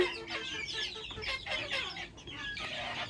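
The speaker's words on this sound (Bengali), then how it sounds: "অনেক দিন যাবৎ ও ডিম পাড়ার জন্য শব্দ করতেছে" A hen clucks repeatedly in a coop before laying an egg, a faint, close series of uneven clucks and calls with no talk.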